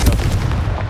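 The Confringo blast spell cast in Hogwarts Legacy, a single loud booming burst with a rumbling low body, close and brief.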